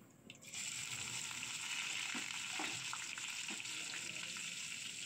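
Onion and ginger fry in a pan for vegetable upma, a soft, continuous sizzle with occasional faint stirring sounds.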